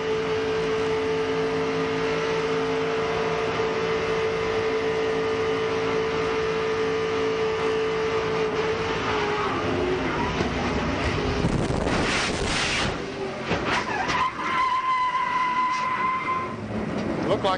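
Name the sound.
NASCAR race car in-car audio during a crash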